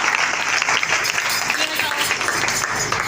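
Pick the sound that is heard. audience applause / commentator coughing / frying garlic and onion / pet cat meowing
audience applause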